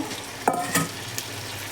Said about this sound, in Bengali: এবার আমি এই জিরে বাটাটা দিয়ে দিচ্ছি, কাঁচা জিরে বাটা।